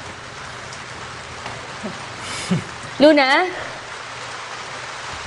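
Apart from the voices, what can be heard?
rain outside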